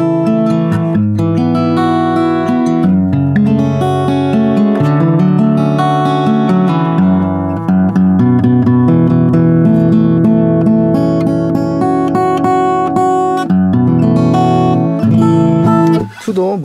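An acoustic guitar with a G7th Performance 2 capo is strummed and picked close up, with loud, ringing chords and melodic runs flowing continuously for about sixteen seconds and ending in a brief final flourish.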